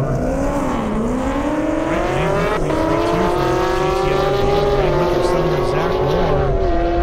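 A Mustang drag car roars on an airstrip at an Indianapolis event, the engine note rising and sweeping in pitch as it accelerates, loud and sustained, with a commentator's voice talking over it.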